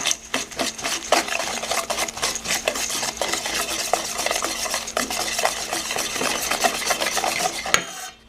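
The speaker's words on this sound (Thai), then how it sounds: "อันนี้ก็จะใส่น้ำตาลอ้อยลงไปนะคะ แล้วก็คนให้เข้ากัน" Cane sugar is stirred steadily into cookie batter for a pecan cereal cookie, a dense rasping scrape of spoon against bowl repeating without pause, close and fairly loud, with no voices.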